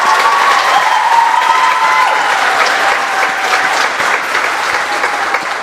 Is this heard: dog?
no